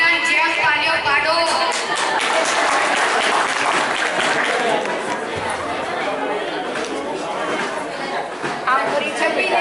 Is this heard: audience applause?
yes